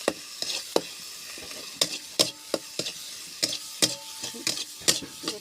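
Chicken cooking in a pan, a soft sizzle broken by sharp irregular clinks and scrapes of a utensil stirring against the metal.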